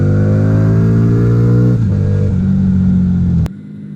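Lexmoto Vendetta 250 motorcycle engine held loud and steady, then the note drops sharply as it shifts down a gear and settles at a lower drone before cutting off, close and dominant with no talk.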